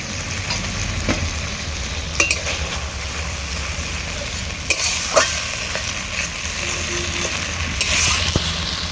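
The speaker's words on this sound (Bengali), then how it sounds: "এবার দিয়ে দিচ্ছি কাঁচা টমেটো বাটা, বাটি ধোয়া জল একটু দিয়ে দিচ্ছি।" Tomato paste and a splash of water hit a hot frying pan of plantain and vegetable curry, giving a steady close sizzle with occasional stirring scrapes and light clinks of a utensil against the pan.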